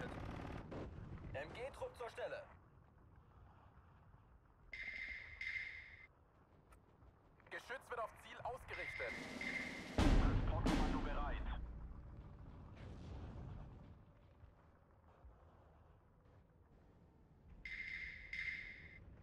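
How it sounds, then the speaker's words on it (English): Machine gun bursts and heavy artillery fire in the war strategy game Steel Division 2, with short rattling bursts, a big booming blast in the middle, and a low rumbling tail. "Looks like it was worth reloading these MGs."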